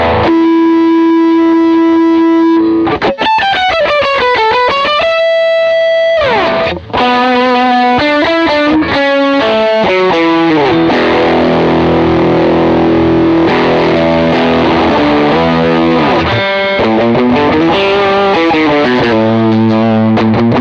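Electric guitar through a 1981 dirt distortion pedal with a heavy low end, strumming huge, thick chords in changing patterns, loud and sustained throughout with no talking.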